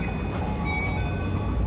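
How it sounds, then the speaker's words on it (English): Steady rumble of a passenger train riding through Tokyo, a continuous low roar with faint high whine, heard from inside the car without talk. "Alright, we're on the train."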